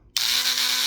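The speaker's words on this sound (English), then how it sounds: "rotary tool. This one has the adjustable speed. It's got an on and off. It's plugged in, corded." A corded adjustable-speed rotary tool switches on after a brief quiet moment and spins with a steady high-pitched whine and faint motor hum, close and alone, holding constant to the end.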